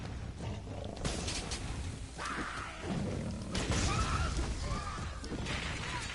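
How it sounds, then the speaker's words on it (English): A lion in the Dragon's Dogma video game roars repeatedly in growling bursts, mixed with crashing impacts and whooshing combat sounds, fairly loud and close with no talk over it. "That lion's going to frenzy at some point,"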